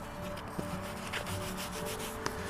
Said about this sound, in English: what I use is a microfiber towel. Just rub it on with your hand really good